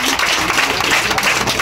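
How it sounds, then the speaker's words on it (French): A crowd applauds in thanks during an official visit at a Christmas gathering with children in Amarakro, a steady, dense patter of clapping filling the short moment without pause. "Je demande à la population d'applaudir et de dire merci."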